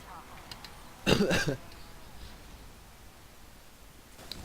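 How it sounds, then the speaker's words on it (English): A short burst of coughing, two or three rough harsh hacks in quick succession, stands out from quiet background with faint rustling before and after. "Sorry about coughing there at the end"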